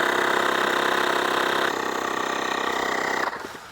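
A cordless tyre inflator runs steadily as it pumps up a car tyre, a loud continuous motor drone with a slight drop in pitch partway through before it cuts off near the end.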